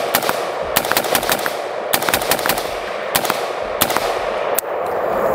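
An AR-15 fires a rapid string of loud, sharp gunshots outdoors, the reports coming in quick irregular bursts with no talking.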